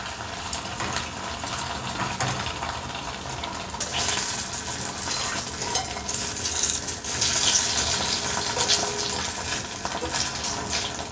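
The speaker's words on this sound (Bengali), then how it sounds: "এবার আমি একটা একটা করে ভেজে নেবো।" Chhena jilipi frying in a small kadai of ghee and peanut oil gives a steady bubbling sizzle, close and moderately loud, growing brighter and busier partway through, with no voices.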